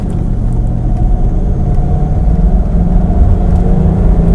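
An armoured Mercedes-Benz W126 560SEL accelerates hard from inside the cabin, giving a loud, steady engine roar and low rumble that holds throughout. No one speaks.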